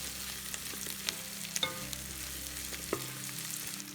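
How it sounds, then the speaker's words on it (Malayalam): Chopped onions sizzle steadily in a hot pan for restaurant-style gobi Manchurian gravy, with a few sharp clicks and scrapes of a spoon stirring them; no talking. "അപ്പോൾ നമ്മുടെ ഉള്ളി നല്ലോണം വഴറ്റിയെടുക്കുകയാണ്."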